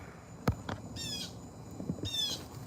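Birds squawk outdoors in the woods, two bursts of harsh raspy calls a second apart among scattered knocks and rustles, moderately distant and fairly soft, no voices over them.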